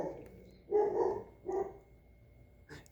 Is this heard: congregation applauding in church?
no